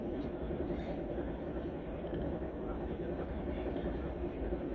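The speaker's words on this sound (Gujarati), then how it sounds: "કેટલી ફાસ્ટ ચાલે, 107 સ્પીડ છે ટ્રેનની" A train running at about 107 km/h in Kerala rumbles along steadily with a continuous low roar and faint rhythmic clatter, loud and close, no break in the noise.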